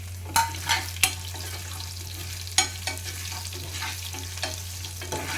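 Garlic and dried red chillies fry in hot oil, a soft steady sizzle with a few sharp clinks and scrapes of a spoon stirring the pan, near and quiet with a faint low hum underneath.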